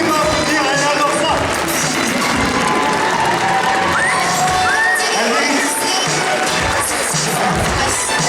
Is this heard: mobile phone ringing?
no